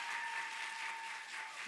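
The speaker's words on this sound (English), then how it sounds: "Let's go ahead and give another round of applause." Sustained applause from an audience at a physician assistant class end-of-program ceremony, steady and moderately distant throughout, with no talking over it.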